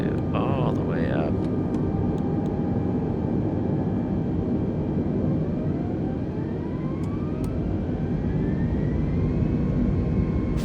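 Steady, loud roar of Airbus jet engines spooled to full thrust in a flight simulator game, a continuous broadband rumble with rising whine tones throughout and a brief voice near the start.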